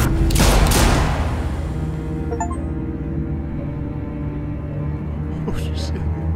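Guns fire in a tense shootout in The Walking Dead video game: a loud burst of shots opens the moment, then a lower rumbling game soundscape carries on beneath voices, with a few faint clinks and another softer burst near the end.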